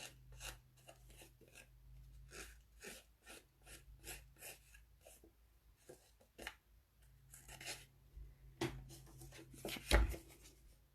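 Scissors trim a photo mat for a double-flap scrapbook layout in a run of soft, close cuts and paper rustles, ending in a sharper clack.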